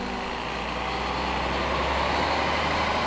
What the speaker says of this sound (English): Today, the Sutton Loop has buses rolling through